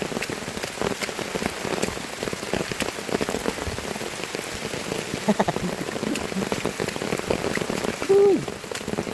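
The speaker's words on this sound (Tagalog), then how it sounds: "Maulan na hiking to." Steady rain patters on surfaces during a hike on the Mt. San Isidro circuit trail, a dense continuous hiss with scattered close drops and a brief louder burst near the end, no talk heard.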